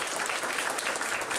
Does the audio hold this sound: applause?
yes